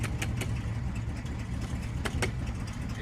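A 1982 GMC C20 truck engine runs with the throttle held slightly open and a block heater plugged in, giving a steady low rumble close by, with a few faint sharp ticks on top.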